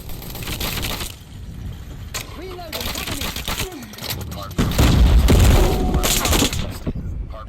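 Rapid bursts of gunfire in Call of Duty: Mobile crackle over continuous background noise, growing louder and denser toward the end, with a voice talking throughout.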